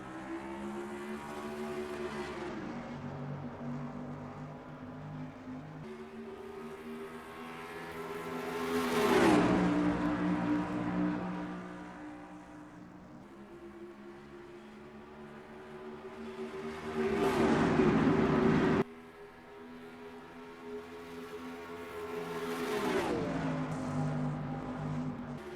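Pickup race trucks in NASCAR Racing 2003 at Las Vegas Motor Speedway roar off the start and rev hard through repeated gear changes, with engine pitch climbing and dropping in waves across the pack and no talk.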